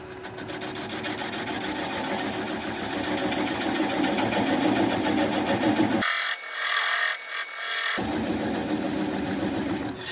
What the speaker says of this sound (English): So now I'm going to use a 3/8 inch swept back bowl gouge to try and work away that center portion